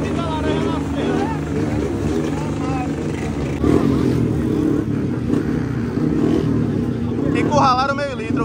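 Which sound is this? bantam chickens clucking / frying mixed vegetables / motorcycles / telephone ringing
motorcycles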